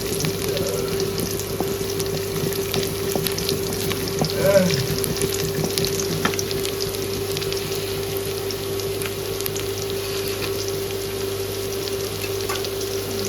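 Fish, a shing catfish being set to cook, fries in a pan with a steady close sizzle and crackle throughout, with faint kitchen hum underneath and no talking.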